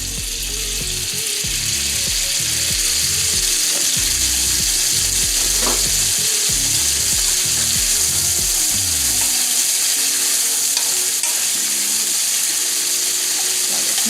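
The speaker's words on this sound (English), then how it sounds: "Now I'm going to use the rest of the drippings from the meatloaf in here." Olive oil and meatloaf drippings sizzle steadily in a pan, a loud, continuous frying crackle with some stirring and faint clatter, no voices present.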